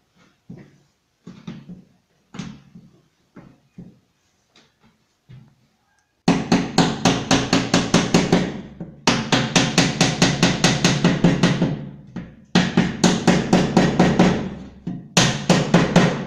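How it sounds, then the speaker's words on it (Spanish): A rubber mallet tapping a melamine nightstand panel down onto wooden dowels: a few soft, scattered knocks at first, then long runs of loud, rapid, evenly spaced blows, close up and without talk. "Para esta operación utilizarás un mazo de goma"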